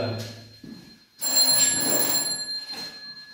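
A telephone rings nearby in a bright, repeated electronic trill that starts abruptly and carries on over faint room noise.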